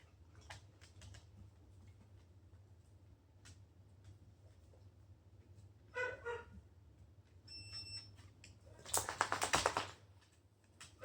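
A brief high electronic beep from a dog's training collar rings out once amid soft rustling and tapping, with a louder clattering burst shortly after.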